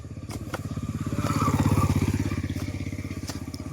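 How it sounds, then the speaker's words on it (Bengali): A motorcycle engine on a main road putters with a rapid, even pulse that swells as it draws near and eases off as it moves away, with a few faint clicks and no talking. "দেখো সবাই যাচ্ছে বাইক নিয়ে"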